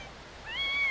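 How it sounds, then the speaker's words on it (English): A cat gives a single short rising meow, close and fairly clear over a faint steady background hiss, with no voices. "Let's listen to the cat meowing again."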